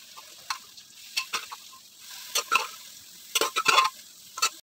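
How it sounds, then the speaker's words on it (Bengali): Boiled cabbage added to potatoes and spices frying in oil, for a Bengali hilsa fish head and cabbage ghonto: a quiet sizzle broken by scattered sharp scraping stirs and clinks, bunched in bursts. "এবার আমি এর মধ্যে সেদ্ধ করা বাঁধাকপিটা দিয়ে দিচ্ছি।"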